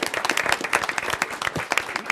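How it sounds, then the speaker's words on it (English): Short burst of applause from a county commissioners' meeting audience honouring an employee's 25-year recognition, a few seconds of brisk, moderately dense clapping. "Round of applause for Jacqueline."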